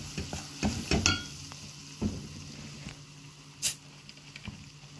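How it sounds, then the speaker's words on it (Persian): Spoon stirring a thick flour and tomato paste mixture in a pot, with a few soft scraping strokes and clinks spaced out over a quiet background, close and fairly faint. "حالا رب رو اضافه میکنیم، قشنگ همشون میزنیم تا با هم مخلوط بشه"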